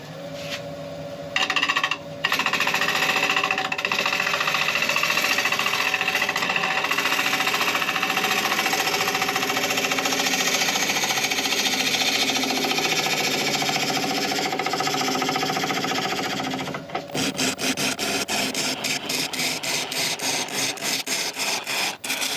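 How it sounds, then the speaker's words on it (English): A wood lathe spins at 900 RPM while a tool hollows a thuya burl bowl, making a continuous loud, gritty cutting hiss. Near the end it shifts into a rapid, rhythmic chatter. "we can now start hollowing out. I've sharpened up and we can start turning at 900 RPM."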